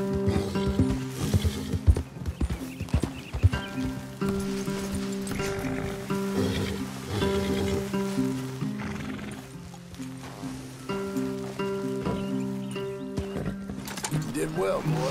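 Horses in the video game Red Dead Redemption 2 clip-clop and whinny close by over a musical score, with people talking during the hoofbeats.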